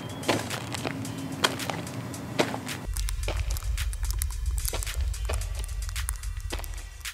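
Foley footsteps crunch on granulated sand in a steady walking rhythm, each step a close, gritty crunch, with the later steps grinding more heavily over a low rumble.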